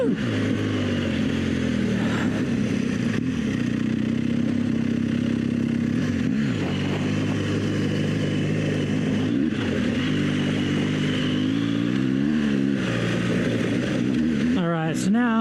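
Motorcycle engine running steadily on an off-road ride on Michelin Anakee Adventure tires, loud and close with rising and falling revs as the throttle is worked, a brief whine near the end.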